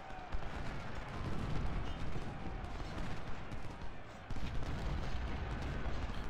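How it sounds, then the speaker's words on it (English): Massed musket volleys from Civil War infantry firing at point-blank range in a strategy game, heard as a dense, continuous roar of overlapping gunfire with a brief dip before it surges again. "Back-to-back volleys at point-blank range against him."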